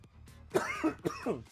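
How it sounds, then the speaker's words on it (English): A person coughs a few times in close, harsh bursts with a throaty rasp, alone with no talking. "I'm still coughing like crazy"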